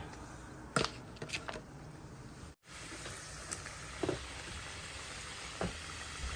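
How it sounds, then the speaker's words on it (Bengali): Singaras (samosas) frying in hot oil, a quiet, steady bubbling sizzle with scattered small pops and a few clicks and clatters, heard close and alone. "বাকি সিঙ্গারাগুলো দিয়ে দিব তেলে।"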